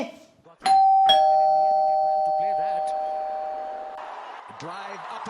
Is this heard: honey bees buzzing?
no